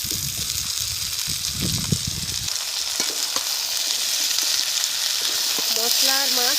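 Vegetables frying with spices and dried shutki fish in a pan give a continuous close sizzle with scattered stirring knocks; a low murmur of activity fills the first two seconds, and a faint squeaky tonal chirp appears near the end.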